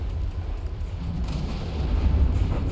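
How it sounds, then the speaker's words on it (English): Four-barrel main guns on a warship fire in a naval combat video game, producing a dense, continuous low rumble of heavy booms that swells louder toward the end, with no clear separate shots. "Gotta love these 4-barrel main guns."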